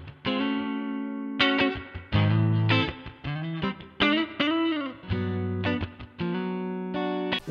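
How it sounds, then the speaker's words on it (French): Clean guitar tone from a Line 6 Pod Express amp model based on a Fender Princeton Reverb, with chords and single notes played in short bursts, clear and close with no talk. "on a un clean basé sur le Fender Princeton Reverb."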